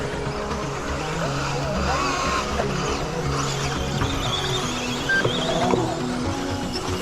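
Small two-wheel-drive Schumacher Cougar LD2 electric RC buggy racing on a track, with a steady whine of several cars circling and brief tyre scuffs, under a commentator's running talk.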